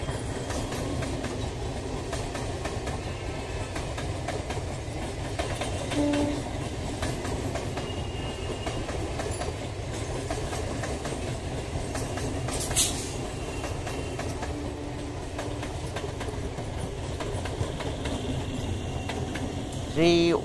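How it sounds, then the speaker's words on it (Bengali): A Krishnanagar City–Sealdah local train rumbles into Naihati station in suburban Kolkata, its steady wheel roar and clatter filling the scene, with a brief squeal and distant voices and announcements underneath. "3-1-8-2-4 down Krishnanagar city Sealdah local Naihati rail স্টেশনে পৌঁছালো।"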